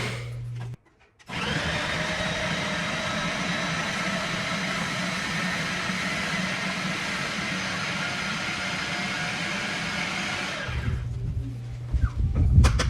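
A food processor chops onions and celery in a steady, loud whir that runs for about ten seconds without a break, with a short pause near the start and clattering at the end.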